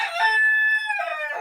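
A rooster crows once among laying hens in a coop with nesting boxes, a loud, close call that holds a steady pitch and then trails off, with no other sound under it.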